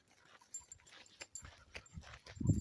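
A dog on a hiking trail lets out soft, scattered whimpers and small yips, fairly close but quiet, ending with a louder shuffling rustle.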